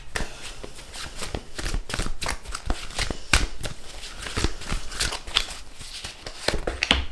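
Tarot cards shuffled and pulled by hand, close up: a continuous run of crisp riffling, flicking and sliding card sounds with irregular sharp snaps, almost no talking.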